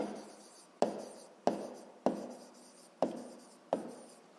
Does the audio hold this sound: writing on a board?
yes